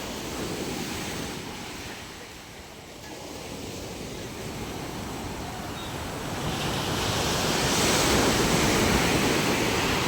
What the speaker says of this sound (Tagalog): Malakas talaga yung alon